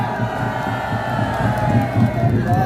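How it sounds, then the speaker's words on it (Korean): Crowd noise at a Korean flag-waving political rally: a dense, steady roar of cheering and shouting voices, close and loud throughout, with a low rumble underneath and some whoops rising from the mass. "큰 박수 부탁드립니다."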